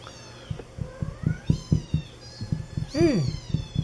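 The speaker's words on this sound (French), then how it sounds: "les chatons crient encore plus, la maman encore plus" Five-week-old Siamese kittens and their mother meow insistently, overlapping cries from near and close by, with one louder drawn-out call toward the end and a person talking alongside.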